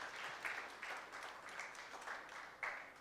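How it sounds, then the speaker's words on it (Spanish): A church congregation applauds during a Spanish-language worship service, steady crowd clapping running throughout with a few louder surges, no clear talk over it. "Denle un aplauso al Señor."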